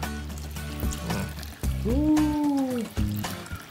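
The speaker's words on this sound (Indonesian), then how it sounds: "kita siram santannya yuk bismillah" Coconut milk is poured over a bowl of memek, a mashed rice dish from Simeulue, in a short wet splash and trickle, with a brief voice and kitchen handling sounds around it.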